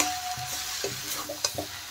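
Cabbage fries in a pan with a soft, continuous sizzle, broken by several quiet scrapes and taps of a spatula stirring it.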